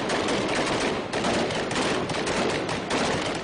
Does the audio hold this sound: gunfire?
yes